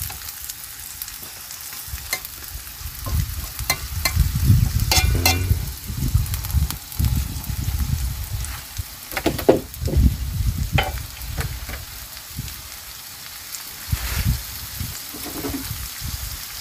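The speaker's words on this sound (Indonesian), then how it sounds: "Akhirnya saya bisa masak labu juga teman." Pumpkin stirred and frying in a pan at a forest hut, with scraping and sizzling that swell and fade in uneven bursts, loud and close.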